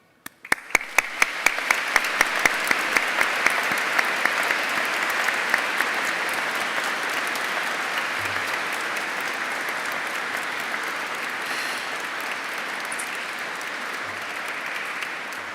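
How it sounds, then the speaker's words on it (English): Graduation audience applause rises inside Canterbury Cathedral, starting with a few sharp claps and swelling quickly into sustained, even clapping that rings through the large stone space for a long stretch. "I would like us to take a moment to applaud them"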